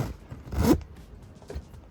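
A zipper on a boat cushion is pulled once in a short, close scraping run, followed by faint rustling and quiet handling.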